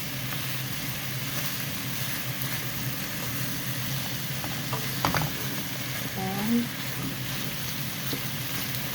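Ginger stirred in a hot pan among garlic and onion for Filipino chicken adobo, a steady sizzle with scraping utensil strokes against the pan, a couple of sharper clinks near the end, no voices.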